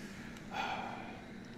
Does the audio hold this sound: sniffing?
yes